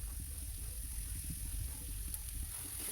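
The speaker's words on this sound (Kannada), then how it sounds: "ಈ ಥರ ಚೆನ್ನಾಗಿ ಲೋ ಫ್ಲೇಮಲ್ಲಿ ಇಟ್ಕೊಂಡು ಫ್ರೈ ಮಾಡ್ಕೋಬೇಕು." Onions frying in a pan over a low flame with a little salt, a steady soft sizzle that runs the whole time at low level, with faint crackles and no voices.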